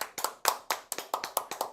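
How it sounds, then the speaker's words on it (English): A single person claps by hand, about eight crisp, evenly spaced claps, close and distinct, with no voices. "The round of applause."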